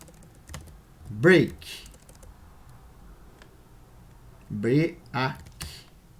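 Faint, sparse taps on a computer keyboard while Arduino switch-case code is being written. A person speaks in short bursts over the soft key clicks.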